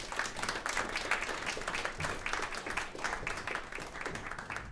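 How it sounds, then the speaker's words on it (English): Steady round of applause from an audience after a panel on minority-owned businesses in New York City, dense clapping continuing evenly at a moderate distance. "Another round of applause, please."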